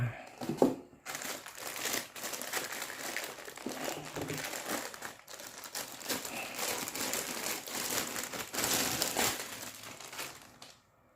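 Protective plastic wrapping around the styrofoam packing of an Oki TDGC2-500 AC voltage regulator crinkles and rustles while it is unboxed, with irregular close bursts of crackling and brief pauses between handling.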